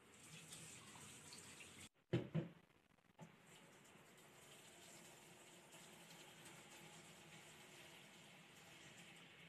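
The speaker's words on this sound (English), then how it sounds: "Flushing tray with lukewarm water." Lukewarm tap water runs steadily from a faucet to flush a tray, a near, continuous splashing hiss with a brief interruption early on, then flowing on evenly without talk.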